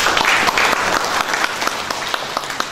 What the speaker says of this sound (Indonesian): Tepuk tangan buat Bapak Kiai Maftuh Anyuti.